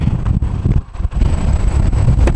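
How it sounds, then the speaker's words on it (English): Strong, gusty wind roars steadily across the microphone outdoors on a cold Route 66 road trip stop, with heavy low rumbling buffeting that dips briefly before surging again. "I've never experienced wind like that."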